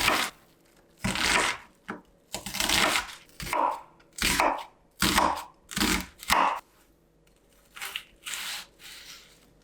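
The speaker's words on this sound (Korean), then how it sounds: "먼저 양파를 다질게요. 새끼손톱 크기만큼 큼직하게 다질 거예요." An onion, halved and scored, is coarsely diced with a knife into pieces about the size of a little fingernail. About eight close, crisp, crunchy cuts come in a steady rhythm, each followed by a brief pause, with no talking.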